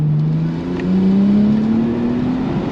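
A Nissan R33 GTS-T engine revs steadily, its droning pitch climbing slowly over a few seconds, loud and close with no talking.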